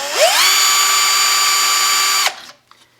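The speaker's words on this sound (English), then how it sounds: "I'm going to go put the drill in through here" A power drill spins up and bores a pilot hole through a wooden rail scratcher, running as a steady, loud whine for about two seconds before it cuts off and winds down.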